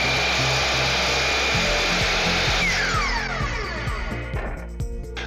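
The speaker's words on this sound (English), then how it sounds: "We're going to use the compound miter saw" A compound miter saw cuts a 1x2 wood board at a 45-degree angle, its motor whining loudly and steadily up close, then winding down as the blade finishes the cut.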